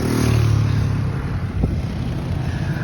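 Loud, steady roar of street traffic in Cabarete, with engines droning and passing vehicles blending into a continuous wash of noise, one brief louder thump partway through.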